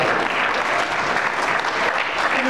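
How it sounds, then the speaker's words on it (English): Loud, dense applause from a school audience for winners of a PTA Reflections arts contest, including dance choreography placers. The crowd claps close and steadily without a break. "Give a big round of applause"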